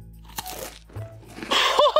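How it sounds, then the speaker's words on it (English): Crunchy munching on a snack of leaves by a Pachycephalosaurus dinosaur figure, a few close crackling bites and crumpling rustles in quick succession. "See? It's munching on some leaves."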